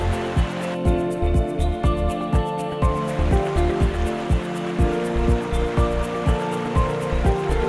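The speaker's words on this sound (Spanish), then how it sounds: "En cascada formando un río que desemboca en el lago que forma el glaciar." Glacier meltwater from the Nigardsbreen glacier in Norway pours out of an ice cavity and cascades down into a river, a steady loud rushing roar of water with rhythmic low thumps underneath, no voices.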